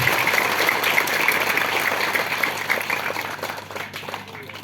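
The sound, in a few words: audience applause for the president at a speech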